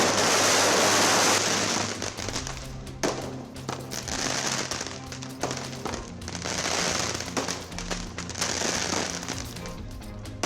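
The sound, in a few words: fireworks and firecrackers set off by film fans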